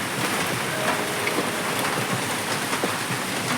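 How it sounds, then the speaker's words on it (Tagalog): Steady, dense rainfall patters continuously on surfaces nearby, an even hiss with scattered drops and no voices. "Sound trip mo yung ulan mismo."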